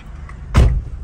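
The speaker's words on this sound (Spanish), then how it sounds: "Él entra en el carro y lo enciende." A car door thumps shut once, close and fairly loud over a steady low engine rumble inside the vehicle, with no talking.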